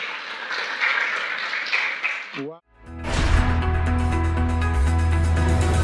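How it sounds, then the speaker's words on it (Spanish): Church congregation applause, a full burst of clapping for over two seconds that cuts off abruptly and gives way to music. "Dale un aplauso al Señor."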